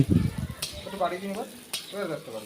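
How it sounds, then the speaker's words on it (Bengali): Chilli chicken ingredients, including chopped ginger and garlic, fry lightly in a pan with a soft continuous sizzle and occasional stirring scrapes, under a person talking. "চিলি চিকেন তৈরি করার জন্য যে সমস্ত উপকরণগুলো রয়েছে সেগুলোকে হালকা করে ভেজে নেওয়া হচ্ছে"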